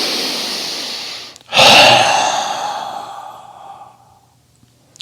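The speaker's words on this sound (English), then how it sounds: "allowing all that oxygen just to be completely dumped out of the lungs, so the lungs are completely just empty" A single forceful exhalation during Tummo breathing empties the lungs in a loud, close, breathy whoosh after a brief pause, then gradually fades to a thin trailing rush of air.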